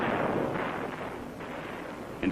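Mortar fire at Khe Sanh in 1968, heard as a dull, rumbling blast that fades over a couple of seconds, with a sharp pop at the end, somewhat distant and muffled.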